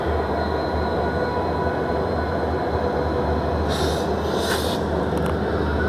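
Diesel locomotives rumbling at the Howrah railway station platform, a continuous loud low drone with a couple of short hissing bursts near the end.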